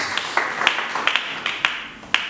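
A church congregation claps in praise, a steady stream of many hands forming a bright, continuous patter with sharper individual claps popping out at irregular intervals, fairly loud and without speech.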